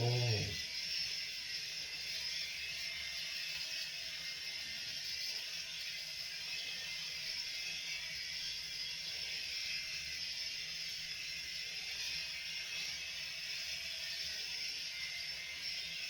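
A LifeSync electric shaver, an inexpensive budget model, shaving skin with a steady, close buzzing hum that runs on evenly for the whole stretch after a brief louder start, with no talking.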